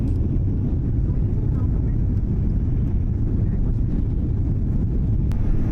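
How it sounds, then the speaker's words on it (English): Airliner taking off from Vancouver, a loud steady low roar of jet engines and rushing wind that fills the cabin without pause, with faint rumble throughout. "The plane is now taking off"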